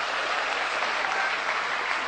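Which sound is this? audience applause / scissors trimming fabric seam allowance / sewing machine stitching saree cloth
audience applause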